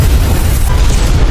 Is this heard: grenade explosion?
yes